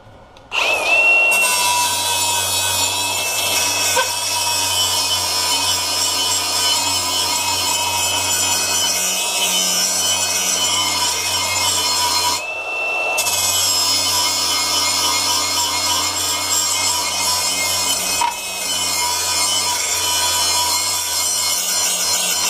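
A power tool, likely a grinder, runs continuously and loudly up close while shaping a metal exhaust part for a twin-charged Honda Civic, with two brief dips where it eases off the workpiece.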